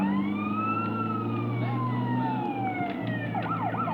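An ambulance siren wails with sweeping rising and falling tones inside GTA San Andreas roleplay gameplay, loud and continuous over a steady low engine drone.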